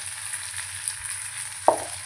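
Small onions sauté in a pan for a thoodhuvalai leaf kuzhambu, a quiet, steady sizzle with a sharper scrape or clatter near the end.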